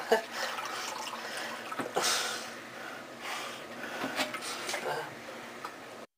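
Excess water is poured out of a canned whole chicken, giving a steady splashing trickle with a few sharper spills, close up, over faint background noise.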